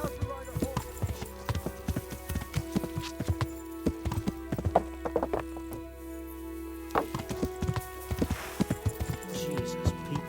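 Horse hooves clip-clop at a walking pace in the medieval video game Kingdom Come: Deliverance, a rhythmic series of close hoof strikes over game music and brief character speech.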